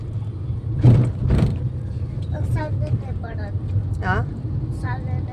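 Road traffic sits jammed, with a steady low rumble of idling engines close by, a few louder vehicle surges, and several short horn toots sounding in quick succession, while a person talks over it.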